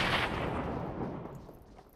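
A grenade blast in a competitive online shooter match, one loud broad explosion at the start that rumbles and decays over about two seconds.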